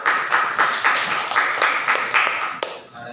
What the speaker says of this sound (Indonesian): Boleh kasih aplaus dulu.